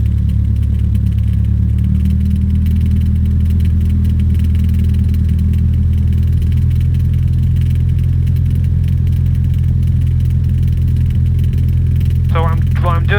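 A small airplane's piston engine drones steadily at high RPM, a loud low rumble filling the cabin throughout, with a brief rattle near the end and people talking over it.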